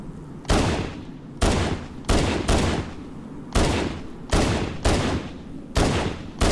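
A sidearm pistol fires in the video game Halo: Combat Evolved: about eight sharp, loud shots at a steady, unhurried pace, each with a short decaying tail and no voices.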